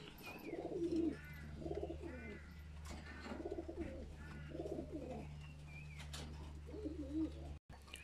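Repeated cooing from a Chikon Maya pigeon, a high-flyer breed, comes in rhythmic rolling phrases over a steady low hum, with a brief dropout near the end.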